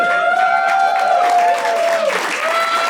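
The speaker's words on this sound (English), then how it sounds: "Everybody's cheering." Stand-up comedy audience breaks into loud, steady applause and cheering that fills the room from start to finish, with a sustained musical tone or whistle running underneath.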